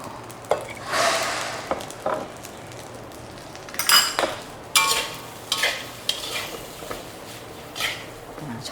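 Seafood fried rice being stir-fried in a pan at home, with a spatula scraping and clanking against the metal in repeated strokes over a soft sizzle, close and fairly loud, with no talking.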